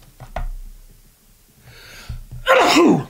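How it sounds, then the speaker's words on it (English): A sharp inhaled gasp builds up, then a single loud, explosive sneeze bursts out close to the listener. "that took a lot out of me, that sneeze"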